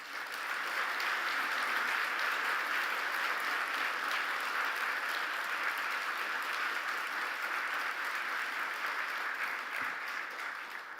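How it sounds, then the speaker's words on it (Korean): Sustained applause from an audience at an award ceremony honoring prize winners, a dense, steady wash of clapping that holds evenly for the whole stretch with no voices over it. "내빈 여러분의 아낌없는 축하의 박수 부탁드립니다."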